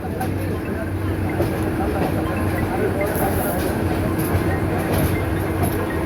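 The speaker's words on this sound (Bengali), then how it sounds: "কমলাপুর রেল স্টেশনের আউটার ক্রস করে যাচ্ছে মহানগর এক্সপ্রেস ট্রেনটি।" Mohanagar Express train passing the outer approach of Kamalapur railway station, a steady loud rumble of wheels and carriages rolling by close at hand for the whole stretch, with a voice talking over it.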